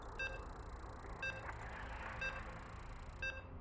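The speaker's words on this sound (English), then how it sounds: "You can hear the beeps." Electronic beeps sound in a StarCraft game lobby before a tournament match: four short, even tones about a second apart, clear over a low background hum.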